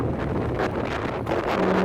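Wind blows steadily across a microphone beside a road on the way home from a shrimp-catching trip, a continuous broad rushing roar with no talk.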